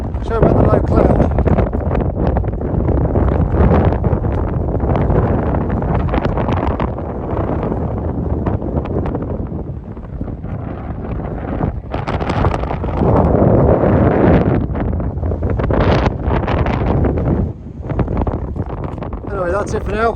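Strong wind buffets the microphone on a breezy Dartmoor hilltop, a loud, continuous roar that gusts and dips for the whole stretch, with a voice faintly heard beneath it.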